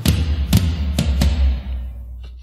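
Four heavy tom drum hits in a metal mix, the close tom mic blended with a sample and compressed, each one deep and booming, then ringing out into quiet.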